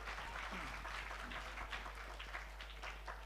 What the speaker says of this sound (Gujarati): તો એકવાર આપણે એમને તાળીઓના ગડગડાટ સાથે આપણે એમને સ્ટેજ ઉપર બોલાવવાના